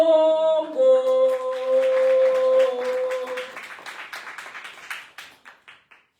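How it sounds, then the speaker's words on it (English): A live boardroom event crowd applauds the January champion after a short musical sting, the clapping rising and then thinning into sparse, fading single claps that die away. "So a round of applause for January champion, Samgelo Mhlongo."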